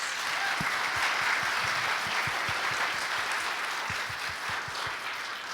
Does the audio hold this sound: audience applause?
yes